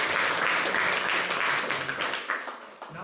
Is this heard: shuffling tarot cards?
no